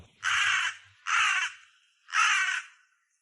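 Three loud, harsh caws from a crow in a park, evenly spaced, each about half a second long, with silence in between.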